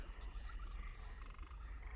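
Frogs croak and chirp in a tabletop video game map, a dense chorus of repeated croaks with a faint background music bed, no talking.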